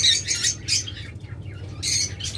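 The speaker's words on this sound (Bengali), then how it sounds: "তারপর এখানে রয়েছে জোড়া লাভবার্ড" A pair of green rosy opaline lovebirds gives loud, close, shrill squawking chirps in rapid bursts with short pauses between them.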